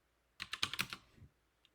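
A short burst of about seven quick keystrokes on a computer keyboard, close and crisp, followed by a single faint tap.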